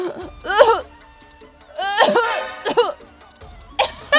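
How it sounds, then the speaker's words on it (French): A girl coughs in several harsh, hoarse bursts with short pauses between them, close and fairly loud, and breathes raggedly in the gaps. "on dirait qu'elle tousse pour de vrai"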